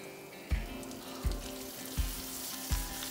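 Mustard seeds, green chilli, asafoetida and curry leaves fry in hot ghee with a soft continuous sizzle, broken by four evenly spaced low thumps of a spoon or pan, quiet and close.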